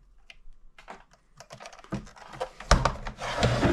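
Prying at the back plate of a P90 Hydra HPA gun: a string of close small plastic clicks and taps that grow denser and louder toward the end, ending in busy rattling and scraping.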